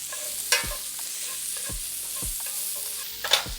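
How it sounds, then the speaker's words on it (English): Onions browning in hot olive oil in a pan give a steady soft sizzle, broken by a few sharp utensil scrapes and taps as they are stirred; no voices are heard. "go ahead and brown those onion up. Throw a little more olive oil inside."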